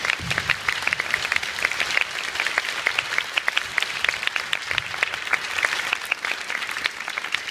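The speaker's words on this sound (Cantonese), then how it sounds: "我哋俾啲掌聲，全體嘅同學同老師" A sustained round of applause from students and teachers at a primary school anniversary celebration, dense and even clapping continuing for several seconds without a break.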